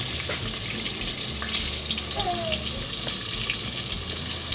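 Chicken pieces for fried chicken fry in hot oil with a steady, hissing sizzle at moderate level, continuing under occasional talk.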